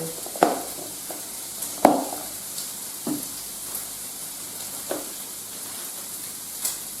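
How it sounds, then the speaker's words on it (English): Bacon being stirred in a frying pan, a soft continuous sizzle broken by several distinct scraping knocks of the utensil against the pan, close and alone. "I'm just going to go and stir the bacon"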